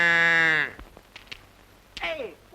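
Sheep bleating from a flock in a 1933 Don Quixote film, one long loud wavering bleat followed by a brief pause, then a second shorter bleat rising at the end.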